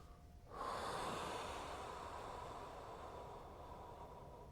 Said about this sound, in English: My deep breathing there